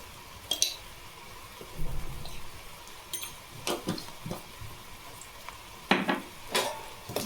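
Spoon scraping and clinking in a pot as chilli powder and turmeric are stirred into gongura curry, a few sharp metallic knocks and scrapes spaced out over quiet kitchen background.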